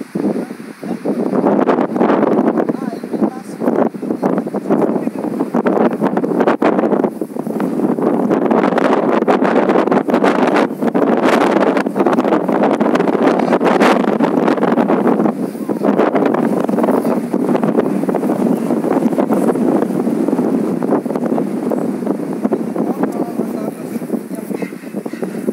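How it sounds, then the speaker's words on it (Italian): Strong wind buffets the microphone in loud, continuous gusts with rumbling bursts and rustling, lasting throughout. "Il vento, ripeto, non ci aiuta,"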